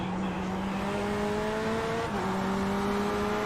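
A racing car accelerates hard on a nitrous boost, its engine a loud, sustained droning whine with steady tones that rise slightly and shift midway, continuous and close throughout.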